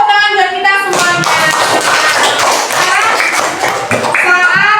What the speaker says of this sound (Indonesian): Sekarang tepuk tangan buat kita semuanya.